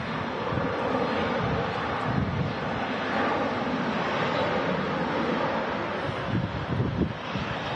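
Strong wind from storm Agnes buffeting an outdoor microphone at Manchester Airport, a continuous loud roaring rumble with gusty swells and a faint distant aircraft drone blended in.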